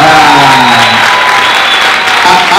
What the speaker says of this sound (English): we need to welcome her with a big round of applause